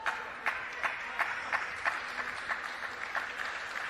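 The home crowd at a WTT Singapore Grand Smash table tennis match claps in unison, a faint, even rhythm of about three claps per second carried over a low hum of crowd noise.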